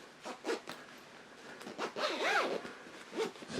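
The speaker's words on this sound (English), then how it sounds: "zip it all up" A zipper closes a memory foam pillow cover in several short, rasping pulls with brief pauses between them, close and fairly quiet.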